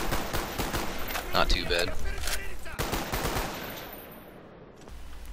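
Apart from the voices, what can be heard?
gunfire from Black Ops video game weapon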